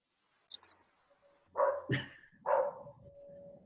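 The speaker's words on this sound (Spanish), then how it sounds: "¿Le molesta el perrito?" A neighbour's small dog gives a few sharp, high yaps and barks with short pauses between them. The dog is somewhat muffled and distant in an otherwise quiet room.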